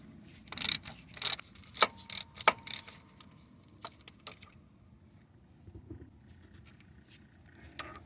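Ratchet clicking in short bursts while turning a 14mm bolt on a Toyota Corolla starter, quick sharp ticks close by, then quieter scattered clicks.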